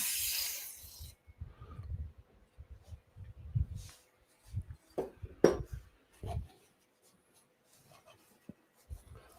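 Short bursts of dry PTFE lubricant spray hiss onto a woodturning lathe chuck, with a sharp spray at the start followed by scattered quiet handling clicks and knocks of the can and metal parts.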